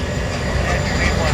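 The end of a freight train rolls past in Winslow, Arizona, a steady, loud rumble and roar of rail cars that holds even throughout the brief moment.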